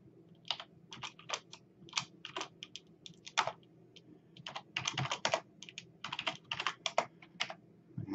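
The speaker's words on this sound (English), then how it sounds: "I'm going to go ahead and type in these confidence levels" Bursts of quick, close clicking keystrokes on a computer keyboard, typing in uneven runs with short pauses in a quiet room, no voice.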